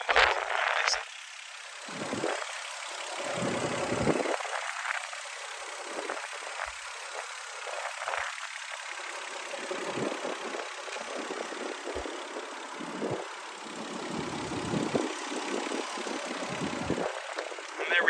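A Mazda Xedos 6 with an EOHC V6 engine idles quietly and evenly, a soft steady hum with faint mechanical ticks at close range.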